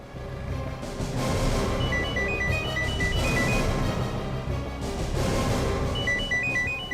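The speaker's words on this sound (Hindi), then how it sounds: "फोन की घंटी तो बज रही है मगर फोन कहीं दिख नहीं रहा है" A phone rings with a repeated electronic trill, steady and fairly loud, pausing briefly between bursts of ringing over a background hum.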